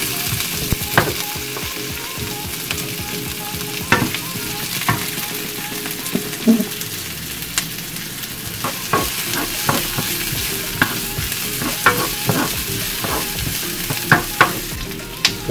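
Lechon being sautéed and stirred in a frying pan with garlic, a steady sizzle under repeated scraping and stirring strokes of a utensil against the pan, close and alone.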